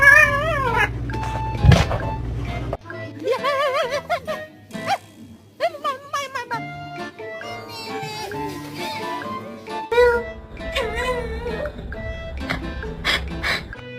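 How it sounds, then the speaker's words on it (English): A little kitten gives high, short mews mixed in among people talking close by, with bursts of rustling and handling noise. "Look at this little kitten."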